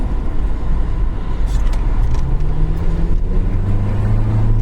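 Underpowered car driving along a road with little oomph, a loud steady engine drone and road rumble close by, the engine tone rising slowly as it labours without any voices.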